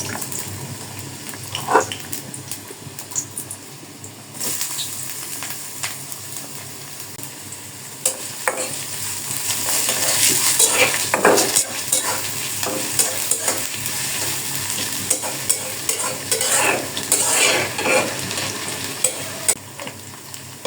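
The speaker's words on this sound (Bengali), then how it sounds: "তেলটা গরম হয়ে গেছে প্রথমে দিয়ে দেবো পেঁয়াজ" Onions sizzle steadily in hot oil for chicken rolls, with a constant frying hiss and occasional stirring scrapes, no talking.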